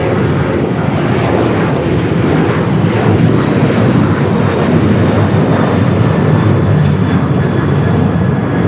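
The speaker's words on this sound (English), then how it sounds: "Second Queen Air flight of the day." Loud, close propeller aircraft passing, a Queen Air making a steady, heavy engine drone that stays strong for the whole pass with no voices.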